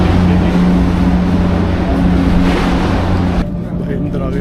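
Hong Kong to Macao ferry engine throbbing with a loud, steady low rumble and hum, dropping in level toward the end, with a person talking over it.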